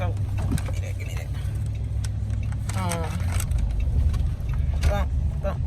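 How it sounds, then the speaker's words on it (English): Inside a car rolling over speed bumps, a low engine and road rumble runs throughout, broken by a few soft thumps and rattles. Faint voices are heard in the background. "Going over some speed bumps."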